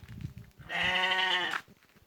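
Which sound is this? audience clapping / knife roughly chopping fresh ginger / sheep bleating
sheep bleating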